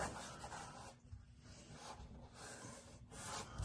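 A hand scrubs the back of a part with rough 40-grit sandpaper in short, quiet rubbing strokes with brief pauses, faint and close.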